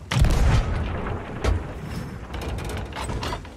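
Naval battle video game ship cannon booming in a couple of heavy blasts, with a loud low thump early and another near the middle, followed by rumbling mechanical noise and sea ambience.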